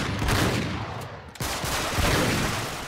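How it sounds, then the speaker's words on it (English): Shotgun blasts in the action game Uncharted 3, loud close booming reports over a dense rumble of gunfire, with a brief gap just before the second half. "Yeah, shotgun!"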